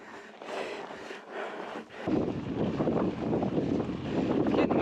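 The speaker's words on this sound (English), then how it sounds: "It's getting windy." Gusty wind buffeting the microphone on a mountain bike ride, a rushing roar that swells and strengthens after a brief lull.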